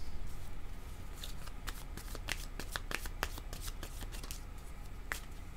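Playing cards are shuffled and drawn by hand in a quick, close series of crisp riffling flicks and snaps, with short pauses between bursts and no voices.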